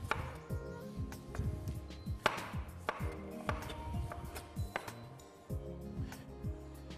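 A knife cutting fresh tomatoes on a board for a Sicilian-style braised garfish dish, a series of soft, irregular chopping taps over quiet kitchen background, some bursts closer together.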